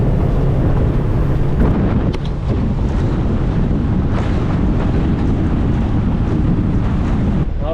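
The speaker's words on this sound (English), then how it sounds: "It's windy." Strong wind roars across the microphone aboard a small fibreglass fishing boat on choppy open sea near a reef. Water slaps and washes steadily beneath the gusts throughout, and no one speaks.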